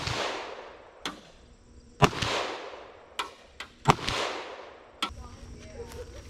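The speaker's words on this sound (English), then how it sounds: "we're going to shoot a couple rounds out of the" FN 5.7 pistol fired at a steel dozer blade: five or six sharp, loud shots spaced irregularly about a second apart, each followed by a short ringing decay.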